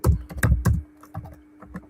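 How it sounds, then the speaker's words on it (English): Fast typing on a computer keyboard: a quick burst of three loud, close key clacks, then a few lighter, scattered taps trailing off. "Ferocious typing."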